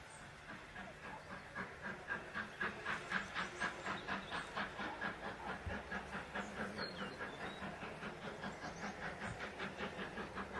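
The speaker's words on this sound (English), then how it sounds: "63395 is hauling the demonstration freight train, passing Goathling station once again" LNER steam locomotive 63395 hauls a demonstration freight train past Goathland station during a steam gala, giving a steady, rhythmic run of exhaust chuffs with hiss, heard from a moderate distance and fairly faint.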